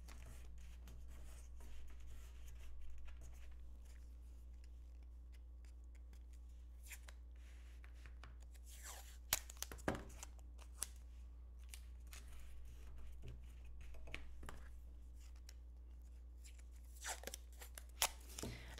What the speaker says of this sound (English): So we do want to use masking tape, and we want to tape it all down.